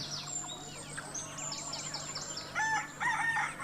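Free-ranging native village chickens cluck and chirp nearby, and a rooster's crow rises clearly toward the end over a quiet rural background.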